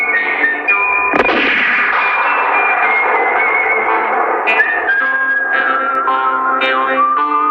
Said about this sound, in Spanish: el sonido es característico del Spaghetti Western, que es más que un disparo, parece un rayo láser